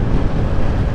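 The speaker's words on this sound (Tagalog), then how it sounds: "napakalakas ng hangin" Strong wind buffeting a microphone during a motorcycle ride on an open road in Negros Occidental, a loud, continuous low rumble and roar with no voices.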